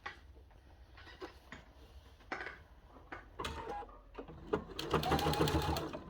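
A sewing machine stitching a cathedral window quilt panel whirs and clatters in short bursts, then runs steadily louder near the end, with soft mechanical clicks between.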